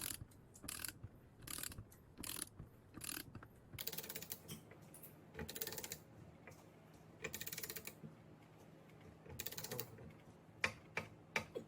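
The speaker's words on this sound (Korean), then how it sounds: "베어링이 너클에 완전히 조립된 소리가 들리네요." A wheel bearing is pressed into the steering knuckle of a Hyundai NF Sonata Transform on a workbench, giving a series of sharp metallic clicks and ratcheting bursts, close and irregular, with brief quiet gaps between strokes.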